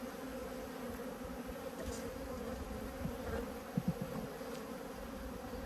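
Honey bees hum in a dense, continuous swarm drone around an open hive during an apiary inspection, close and steady throughout with a few faint handling clicks.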